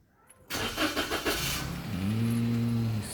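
A Daihatsu Ayla 1.0 car engine starts up after an oil change, with a short cranking burst followed by a steady, rising idle hum that settles into a smooth running drone, close and alone.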